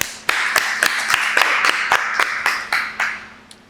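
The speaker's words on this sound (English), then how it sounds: "give him a round of applause." A small audience at a live coaching session gives a brief round of applause, a short burst of sparse, distinct claps close by, trailing off after a few seconds.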